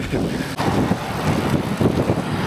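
Steady, loud wind buffeting the microphone while cycling into a headwind on a winter road ride, a continuous broadband rush with gusty swells throughout and no other sounds standing out.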